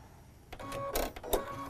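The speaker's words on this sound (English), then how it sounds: "we're going to take them into the sewing machine here, and we're going to use our 1/4 inch seam" A sewing machine running a quarter-inch seam on fabric triangle units for quilting, quiet at first, then a few short mechanical whirring bursts with clicks, fairly close.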